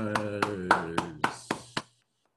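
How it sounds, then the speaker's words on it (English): Seven sharp, evenly spaced claps from a single person close to the microphone at a virtual meeting, heard over a sustained voice and then stopping abruptly. "Heiska, round of applause."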